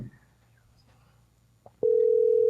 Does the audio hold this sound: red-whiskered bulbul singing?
no